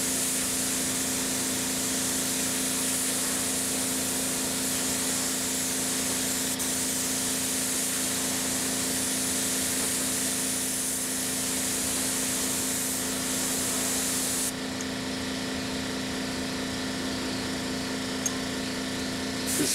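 A spray gun lays the final paint coat on a vehicle outdoors with a steady, loud, close hiss that runs without a break for about fifteen seconds, then shifts to a slightly thinner tone.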